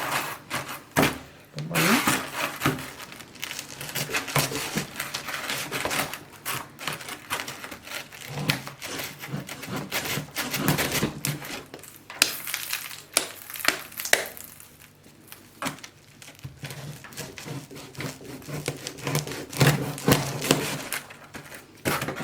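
Knife cutting dry salted fish into ten pieces: repeated sharp, close chopping and crunching strikes in an uneven rhythm, loud throughout.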